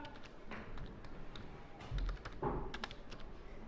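Quiet clicking of keys on a computer keyboard as a word is typed, soft close taps in a short irregular run over faint room noise.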